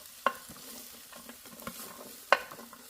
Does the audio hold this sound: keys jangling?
no